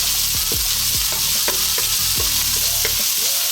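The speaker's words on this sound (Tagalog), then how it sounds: "lagyan na rin kaagad natin yung ating sibuyas. Haluin lang natin sandali." Onions sizzle steadily in a hot pan while a utensil stirs and scrapes through them in repeated strokes, the frying hiss loud and continuous throughout, for Filipino lumpia filling.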